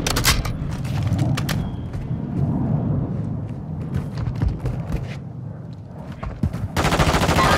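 Automatic and single gunshots ring out in Warzone 2.0, a series of sharp bursts and scattered cracks over a rumbling background, ending in a dense burst of fire.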